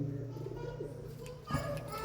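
Rare-breed pigeons in a loft cooing low and throaty in a soft repeated rhythm close by, under someone talking.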